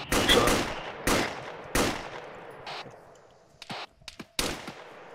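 Gunfire rings out in the Arma 3 video game as a series of sharp shots with echoing decay, some in quick clusters and others spaced apart. The shots fade to quieter, more distant pops and then come back louder.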